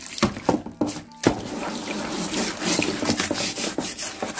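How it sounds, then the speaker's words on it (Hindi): A brush scrubs a greasy kitchen chimney filter submerged in water, giving a close, steady wet rubbing and rasping with a few sharper strokes at the start. "इस तरफ भी हम हल्के हाथों से ब्रश को घुमाते हुए क्लीन कर लेंगे।"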